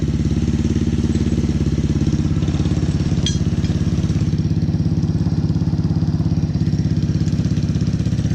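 A turbocharged drift trike engine runs at a steady, rapid, even putter, close and continuous, with a brief clink partway through.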